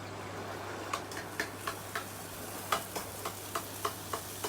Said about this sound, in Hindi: अभी ये हमारा बिल्कुल ऑयल गर्म हो गया है। अब हम इसमें भटूरा डालेंगे।